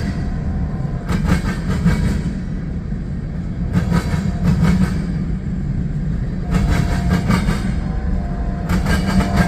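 A CSX freight train hauling empty center beam lumber cars rolls past at night, loud and close, a continuous heavy rumble with repeated clickety-clack bursts of wheels over rail joints.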